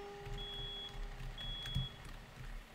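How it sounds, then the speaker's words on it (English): Repeated high electronic beeps from a fire alarm sound in an indoor setting, two steady tones each lasting about half a second, moderately loud over a low background hum. "this fire alarm is pissing me off"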